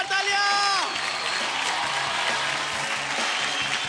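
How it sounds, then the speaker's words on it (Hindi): Audience applause with cheering on a televised children's singing competition stage show, following the presentation of a weekly award; dense, steady clapping fills the clip with tonal music chords fading out at the start. "जोरदार तालियां।"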